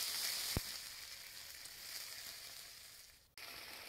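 Sardines sizzling and frying in a pan with onion and tomato paste, a steady close hiss with one sharp click early on and a brief drop near the end.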